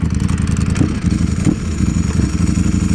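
Loud, continuous engine roar of a Ducati Streetfighter V4 motorcycle at riding speed on the road, with steady throttle pulses and rough mechanical rumble throughout.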